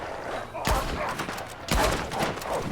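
Gunfire in Red Dead Redemption 2 Online: two heavy booming shots about a second apart, each ringing with a short tail over faint background noise.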